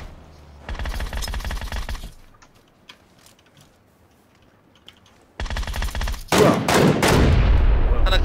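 Bursts of automatic gunfire in PUBG, two sustained volleys separated by a quiet stretch, the second louder and heavier with sharp blasts.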